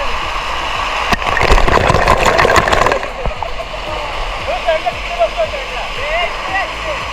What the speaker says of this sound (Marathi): छोटा धबधबा बघा.